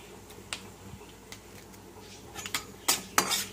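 Dried curry leaves tossed into a pan and stirred, giving sharp metallic clinks of a spoon against the pan that grow louder and closer toward the end, with no talking.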